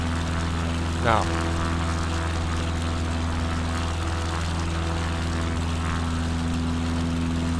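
Propeller airplane engine droning steadily in flight in the video game DisastAir, a sustained tonal hum throughout with a brief voice near the start.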